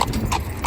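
A Fell pony's hooves clip-clopping, three quick knocks at an even pace, close and fairly loud, with no voices.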